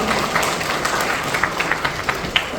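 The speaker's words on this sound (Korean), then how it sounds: "감사 박수 주세요." Auditorium audience applause at a lecture event in a large hall, dense continuous clapping from a sizable crowd, fairly loud and without talk over it.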